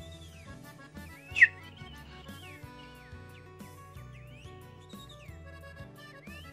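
Faint whistled birdlike calls, a voice imitating a cardinal's song with rising and falling phrases, over soft background music with one sharper chirp.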